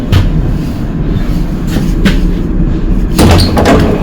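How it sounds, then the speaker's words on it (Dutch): Train door opening at a Dutch station stop, a loud mechanical rattle and hiss with a few sharp clunks and a heavier burst of sliding noise near the end, over constant carriage rumble. "Deur even openen."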